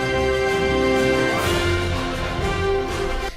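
Orchestral woodwinds led by a flute run that starts softly and swells in volume into the next section, a sustained ensemble texture with rising motion and no talking.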